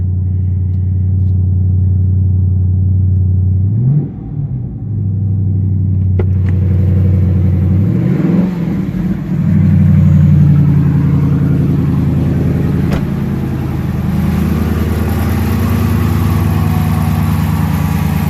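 Steady, loud low rumble of a Dodge Charger 5.7 Hemi V8 idling with a K&N Blackhawk cold air intake, with two brief blips of revving partway through.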